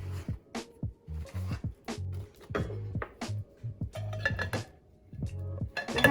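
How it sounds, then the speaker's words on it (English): A shovel scrapes and stirs a homemade potting soil blend with worm castings, making repeated close gritty scoops and knocks in an uneven rhythm, with no one talking. "I'm going to take my shovel and mix this all up with the blend that I already have in there"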